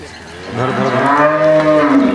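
A cow lets out one long, loud moo close by, rising and holding before trailing off.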